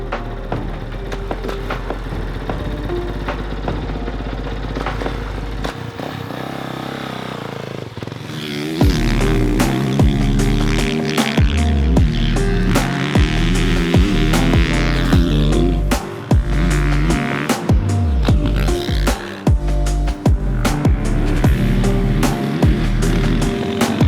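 A 2021 Honda CRF450R dirt bike on a motocross track, its engine idling low and steady before revving hard into loud, sustained riding with repeated throttle blips and gear changes.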